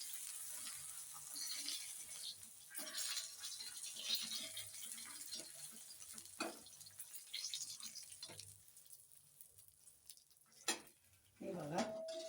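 Fish frying Malvani style in a pan, a quiet steady sizzle with scattered clinks of utensil against pan and a few louder scrapes near the end.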